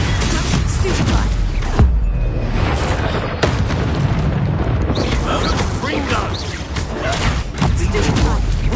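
Spell-combat blasts in the video game Hogwarts Legacy: a dense, loud barrage of magical booms and bursts, with sharp impacts around two and three and a half seconds over continuous battle noise, with a voice shouting spell names.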